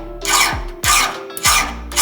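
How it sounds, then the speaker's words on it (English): A chainsaw file scraped across a hardened knife blade just out of a heat-treating oven, three loud rasping strokes in steady rhythm, close and alone. "Go ahead and check and see if it's hard now with a chainsaw file."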